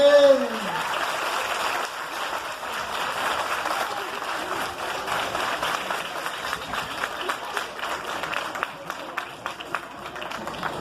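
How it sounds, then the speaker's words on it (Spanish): Crowd at a horseback parade in Xochinanacatlán claps in scattered, uneven bursts after a brief amplified call, the clapping staying moderate and spread out over a wide outdoor crowd. "Aplausos, aplausos, que se escuchen."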